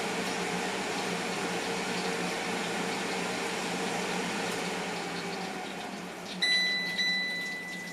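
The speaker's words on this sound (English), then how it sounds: "You can smell the chicken and actually hear it cooking inside. Almost like deep frying sounds." Chicken wings cooking inside a Philips Airfryer XL, a soft steady sizzle and crackle like deep frying under the fan's airy hum, faint and continuous, with a couple of short electronic beeps near the end.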